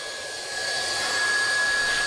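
A hot air welding gun with a speed nozzle, used to weld vinyl floor rod, blows with a steady breathy hiss that swells slightly louder after a moment.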